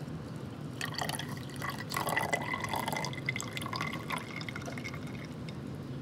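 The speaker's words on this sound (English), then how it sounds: "So now we move on to pouring in the water all the way till full." Water pours into a container nearby, splashing and gurgling at a varying rate as it fills.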